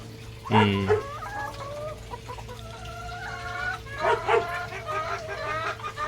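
Rhode Island and Dekalb Brown chickens cluck and squawk near a rooster. One loud burst comes early, followed by quieter clucking and a second cluster of calls, over a steady background hum.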